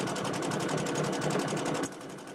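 A domestic sewing machine runs fast during free-motion quilting, a close, even burst of stitching that stops abruptly near the end.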